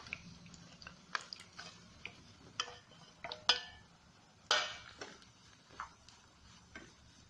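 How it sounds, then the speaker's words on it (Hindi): Jaggery melting in desi ghee is stirred in a wok: soft, irregular spoon taps and scrapes sound over a faint low sizzle, quiet and close, with no talking. "इसको लगातार चलाते हुए मेल्ट होने तक इसको चलाते रहेंगे इस तरह से।"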